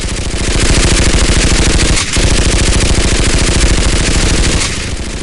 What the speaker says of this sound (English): The soldiers and citizens open fire at the emerging enemy soldiers.